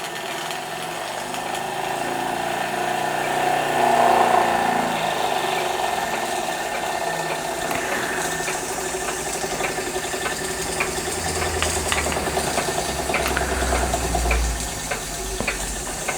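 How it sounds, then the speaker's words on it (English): A Wilesco D455 model steam engine with a vertical boiler runs under steam, giving a steady mechanical whirr with a light rhythmic chuff, close by and continuous, without speech. "That's the Wilesco D455, a vertical boilered vertical steam engine. Under steam for the first time since I've owned it."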